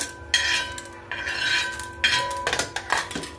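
Peanuts tipped onto a flat iron griddle (tava) with a little oil left from roasting chana dal, giving a few bright clinking scrapes and rattles up close, with short bursts of metallic clatter and no talking.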